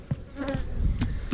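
Honey bees hum around a nuc frame, a brief close buzz with a few sharp wing-flick bursts and no talking.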